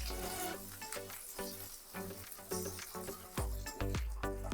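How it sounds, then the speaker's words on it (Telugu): Onions and green chillies fry in a pan, a dense crackling sizzle with repeated sharp taps and scrapes as the pieces are stirred, fairly close and without talk. "ఈ ఉల్లిపాయలు పచ్చిమిర్చి బాగా మంచిగా ఫ్రై అవ్వాలి"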